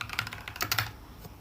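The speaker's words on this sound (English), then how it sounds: "So if you type in like Python install," Fingers tapping on a computer keyboard in a quick, uneven burst of close, crisp keystrokes with no voices, trailing off near the end.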